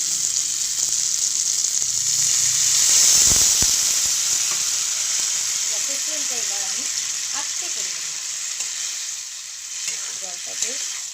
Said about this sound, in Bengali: আমি এর ভেতরে এবার এক কাপ মতো জল দিয়ে দেবো